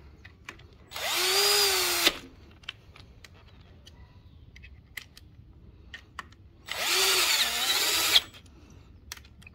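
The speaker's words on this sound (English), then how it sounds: "Use the power tool. Tighten the screws." A power tool drives screws into a SUR-RON electric bike pedal kit, two loud whirring bursts about a second long each, separated by quiet with small clicks and handling noises.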